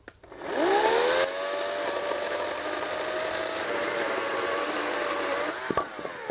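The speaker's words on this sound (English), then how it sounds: "back to the chainsaw" A chainsaw revs up sharply and runs at a steady high whine as it bites into wood for several seconds, close and loud, then cuts off abruptly near the end.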